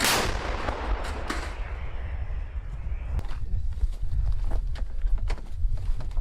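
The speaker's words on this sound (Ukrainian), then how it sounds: "Плюс, заряджай тоді. Постріл!" A loud artillery gun firing a shot booms at the start and rumbles away, followed by low thuds and scattered clanking sounds nearby as crew reload.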